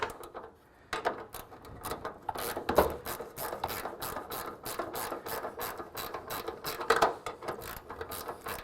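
Ratchet wrench clicking in steady repeated bursts while tightening the hood bolts on a car, close and fairly loud, with brief pauses between strokes.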